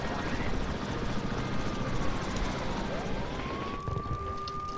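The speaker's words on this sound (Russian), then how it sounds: "А, ну вот и вертушка." A helicopter arrives in the zombie video game No More Room in Hell, its steady rotor roar loud and continuous throughout, with a rising tonal whine near the end and faint voices underneath.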